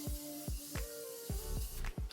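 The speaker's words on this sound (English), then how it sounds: "Spray your face before you blend out your concealer if you want everything to melt together." Face setting spray misted onto a face during a makeup routine, several quick spritzes in a steady rhythm, close and moderately loud over a faint tonal background.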